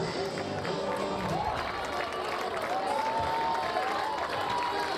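Florida State fans applaud and cheer steadily at an ACC softball championship game, a dense wash of crowd clapping with whistles and voices rising through it for the whole stretch.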